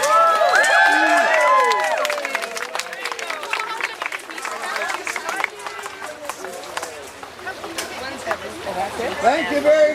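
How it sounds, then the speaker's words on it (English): A large outdoor crowd cheers and applauds loudly as a batch of little snapper turtles is sent down, a broad wash of voices and clapping that swells at the start and again near the end, with speech mixed in. "Let's give them a big cheer to make sure they get down there"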